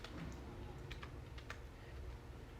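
Keys clatter on a computer keyboard as a compile command is typed, giving quiet, close, irregular clicks with a short quick run near the middle over a low background hum.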